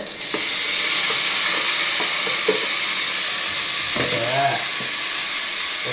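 Frankfurters frying in a pan give a loud, continuous hiss and sizzle, with the scrape and clatter of stirring rising briefly above it, close up.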